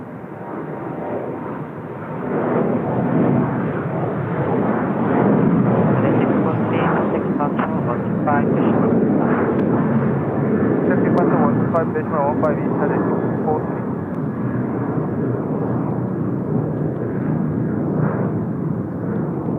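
An Eastar Jet airliner roars steadily as it takes off from runway 34 right, a loud, broad engine rumble that swells after a couple of seconds and holds, with someone talking over it.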